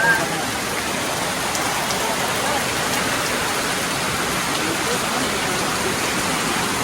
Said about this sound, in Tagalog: Ulan po. Rainy, rainy.